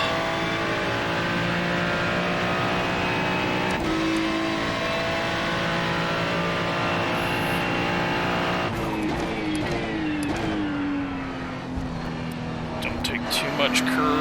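Ferrari GT3 race car in iRacing at the Charlotte Roval: a loud, continuous engine drone with a brief lift-off partway through, then the revs climbing again as the throttle reopens, with faint tyre noise and talk over it.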